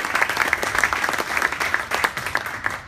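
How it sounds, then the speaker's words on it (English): Applause at a cloud-computing thought leadership evening as a speaker is welcomed, a crowd clapping steadily and fairly loud, with distinct individual claps flickering through the dense wash. "applause for Phil Gray"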